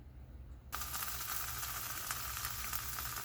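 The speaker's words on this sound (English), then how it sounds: "I like to fry my shells on both sides" Birria taco shells frying in a hot skillet, a sudden burst of sizzling that starts after a quiet moment and continues as a steady, moderately loud hiss.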